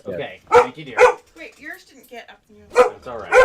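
Dogs bark in short, loud yaps at close range, mixed in with a person talking to them warmly in a home setting.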